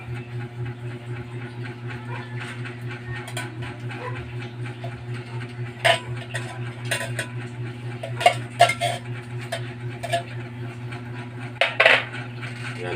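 Buko salad with condensed milk being stirred in a bowl, giving scattered clinks and scrapes of a utensil against the bowl, loudest in short bursts near the end, over a steady low background hum.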